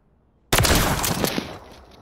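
A shotgun blast in the Call of Duty video game bursts in suddenly after half a second of silence, loud and close, with sharp cracks over a decaying roar that fades out by the end.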